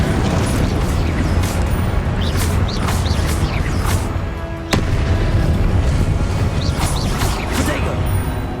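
Confringo blasting-spell explosions in the Hogwarts Legacy video game, a dense run of loud, overlapping bursts and crackles throughout, with one sharp blast near the middle, under spell-casting shouts.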